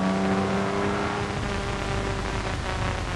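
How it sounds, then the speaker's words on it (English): A Jaguar race car pulls hard away from the starting line, its engine a dense, steady roar of acceleration through the whole short stretch, with no voices over it. "Moving off. Accelerating hard up to Dunlop Bridge."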